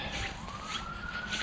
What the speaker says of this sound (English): the whirring of the siren really brings it home to you